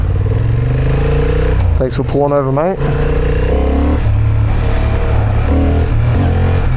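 Honda Hornet 750 motorcycle in sport mode accelerating hard, a loud steady engine roar rising through the clip with a brief revving sweep in the middle, as someone speaks over it.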